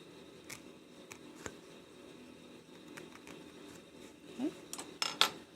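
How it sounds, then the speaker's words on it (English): Scissors snip small holes for magnetic snap closure prongs, a few quiet crisp clicks and cuts scattered over a faint background, ending with a short cluster of sharper snips. "we're going to cut those holes."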